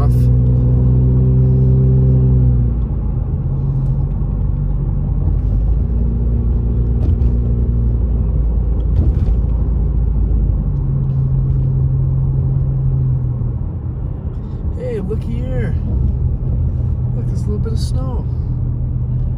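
Harley motorcycle cruising mountain roads around Big Bear on a wet stretch, a steady low engine rumble with shifting tones and wind, continuous and close.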